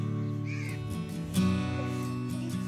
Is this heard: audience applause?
no